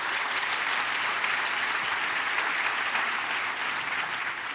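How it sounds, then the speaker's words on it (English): A podcast's live studio audience applauds in a steady, dense wash of clapping that holds at an even level from start to finish. "Let's give a round of applause for you."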